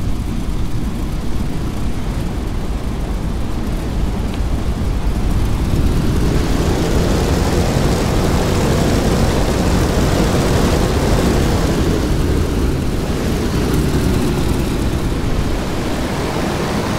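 A WW2 propeller aircraft taxiing to the runway in the DCS flight game, canopy open: a loud, continuous engine and propeller drone that swells slightly in the middle, with no voices.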